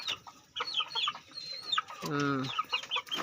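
Ayam ketawa chickens in a backyard giving rapid repeated clucks and one drawn-out rolling call, close by, with someone talking over them.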